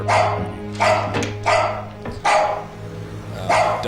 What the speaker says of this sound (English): Dog, yeah.